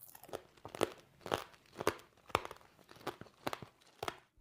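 Crisp, close crunches from biting into sugar-coated tanghulu fruit lollipops with a hard candy shell, about eight sharp cracks spaced roughly half a second apart, with no talking.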